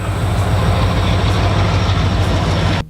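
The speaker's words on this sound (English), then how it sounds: "And we've got a train coming through right now actually as well." A train rumbles past nearby, a loud, steady low engine drone with broad rushing noise that holds constant and then cuts off abruptly.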